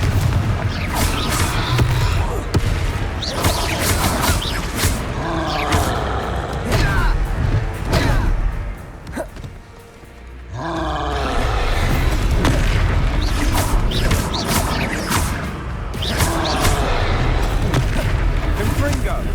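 The Confringo explosion spell in Hogwarts Legacy booms out in loud, dense blasts that roll on almost without pause, dipping briefly midway before another burst, with combat noise and a voice shouting over it.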